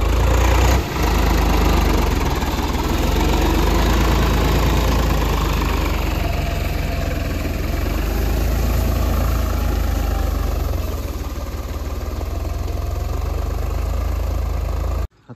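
A farm tractor engine idles close by in a loud, steady low-pitched chug with a rough knocking pulse, running continuously for about fifteen seconds before cutting off abruptly, with no voices.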